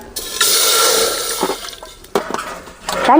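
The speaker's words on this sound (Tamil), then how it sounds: "தண்ணி நல்லா கொதிக்குது" Water boiling in a pot on the stove for urad dal Mysore pak, a steady broadband bubbling hiss with small pops and splashes, fairly close and continuous.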